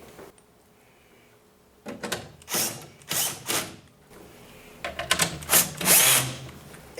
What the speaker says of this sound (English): Reinstall the upper shroud. Reinstall the screws on this side.